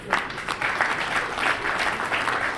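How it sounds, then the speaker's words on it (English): An awards ceremony audience gives a round of applause, steady moderate clapping from a crowd that holds for a couple of seconds without voices over it. "A warm round of applause for this."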